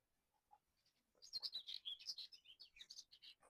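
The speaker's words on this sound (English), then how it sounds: "I hope you can hear this lovely bird song that's going on out here." A single bird sings a rapid, bright warbling phrase after a moment of quiet, clear and close in still outdoor air.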